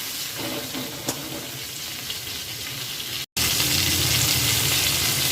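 Chopped tomato sizzling and frying in a pan for a prawn curry, a steady close hiss with a few faint stirring ticks, then a brief break before the frying resumes louder and brighter.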